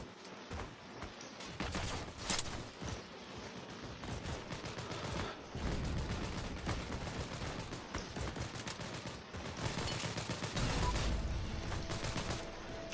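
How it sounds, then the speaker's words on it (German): Gunfire in the online shooter Heroes & Generals comes as repeated sharp cracks and bursts of shots at moderate distance over a constant background rumble of battle, with no talking. "ich nehme lieber meine Sniper wieder"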